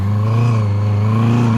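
A Honda CB650R motorcycle engine revving in first gear, a loud, close, steady drone whose pitch rises gently over a second and a half, alone without talking.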